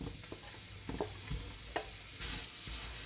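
Jaggery for methi paak stirred into hot ghee in a pan, giving a steady close sizzle broken by scraping stirs and a few sharper clatters of the spoon, with no voices.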